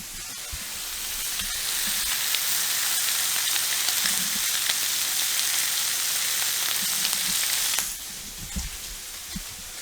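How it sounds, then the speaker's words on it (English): Bacon fries loudly in a pan with a dense, crackling sizzle close by. It holds steady for most of the clip, then drops off near the end, with small pops and scrapes. "Currently just cooking bacon, which is what you can hear."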